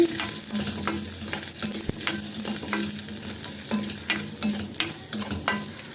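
Garlic and cumin sizzle in hot oil in a pan, a steady crackling fry broken by regular scraping stirs of a spoon, close and alone with no talk.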